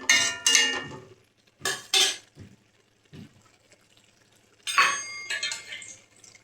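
Water is added to a pan of chilli cauliflower gravy, with a few short bursts of pouring and splashing amid clinks of a pot and utensil, separated by quiet gaps.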